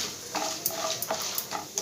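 Spices for a raw banana fry are stirred together in a pan, giving faint, evenly spaced scraping taps of a spoon against the metal over a quiet background.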